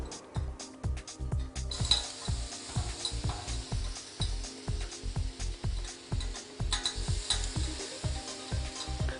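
Food sizzling and crackling steadily on a heated salt block, with repeated rhythmic taps and clacks of metal tongs moving pieces around, close and continuous throughout.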